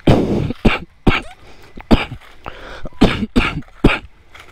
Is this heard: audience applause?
no